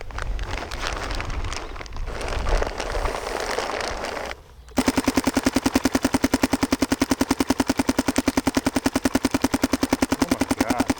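Paintball marker fired rapidly from a Dye MXR loader: after a few seconds of windy outdoor noise, a fast, even stream of loud close pops runs on without a break to the end.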